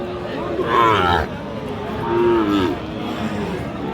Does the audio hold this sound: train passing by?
no